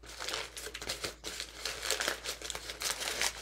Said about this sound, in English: Then you're gonna fold this down and make a crimp,